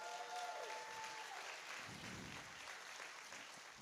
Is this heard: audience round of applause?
yes